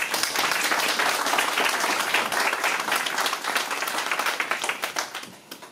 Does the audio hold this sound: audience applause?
yes